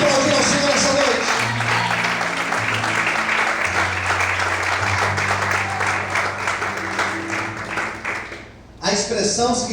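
Steady, loud clapping rises from a church congregation during a night service and holds for several seconds over a sustained musical backing, with someone talking through it before the applause drops away abruptly near the end.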